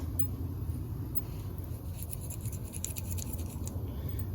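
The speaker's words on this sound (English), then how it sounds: "run over them with a toothbrush a few times just to get all the excess dirt off of them" A toothbrush scrubs gritty dirt off nitro RC car parts, a close, continuous scratchy bristle rasp with quick back-and-forth strokes and no talking.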